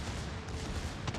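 Heavy naval gunfire from a Bismarck battleship in World of Warships, a dense continuous roar of distant booming shots with a sharper burst near the end.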